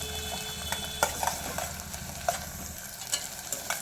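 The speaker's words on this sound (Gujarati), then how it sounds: "પછી આપણે બધો જ વઘાર સારી રીતે હલાવી લેવી" Chopped onions fry in a hot oil tempering on low gas, giving a soft continuous sizzle with scattered light scraping clicks from a spoon stirring the pan, quiet and close.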